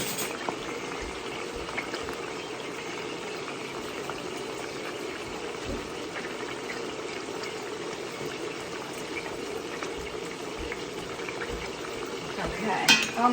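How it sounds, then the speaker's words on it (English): Broccoli rabe and sausage cook together in a pan with a steady, close sizzle and bubbling that continues throughout, and a brief clatter comes near the end. "the broccoli rabe, as it cooks, it's going to reduce, and we're going to have to stir it"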